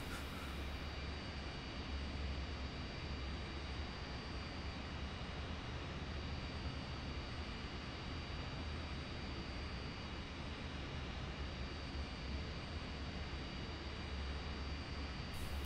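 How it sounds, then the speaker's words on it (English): Idling jet engines of F-86 Sabre aircraft waiting on the ground for takeoff in the DCS flight simulator game, a steady broadband roar and hiss with no talking. "As you see, we're sitting here in Sabres, waiting for everybody else to take off."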